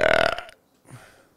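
A single loud, voiced belch on a podcast about belching rolls out close to the microphone for about half a second. A brief quiet follows, then a faint low trailing sound.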